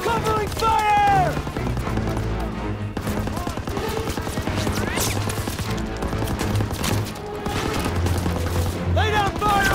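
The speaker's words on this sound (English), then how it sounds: "Lay down fire on that MG!" Machine gun fire in Call of Duty WWII, with rapid gunfire bursts and explosions layered under shouted soldier commands and battle chatter, dense and continuous throughout.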